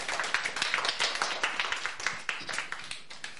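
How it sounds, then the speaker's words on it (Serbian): A small audience claps for a child performer named Miloš Simić at a Saint Sava school program, a brief patter of scattered hand claps rising and thinning over a few seconds, with faint voices beneath. "Jedan aplauz, Miloš Simić."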